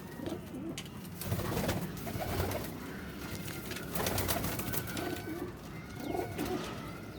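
Pet pigeons with black heads and black tails cooing nearby in a loft, producing repeated soft throaty coos in swelling bursts over a background hiss with no talk.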